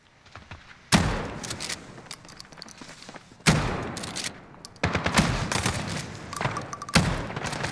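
Remington TAC-14 shotgun blasts in Call of Duty Modern Warfare, four loud separate booms spaced a couple of seconds apart over a busy background of game noise.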